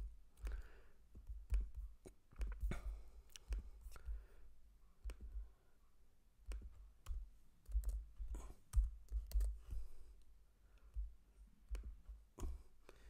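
Code is typed on a computer keyboard in quick, irregular bursts of soft clicking keystrokes, close but quiet, with short pauses between runs and no talking.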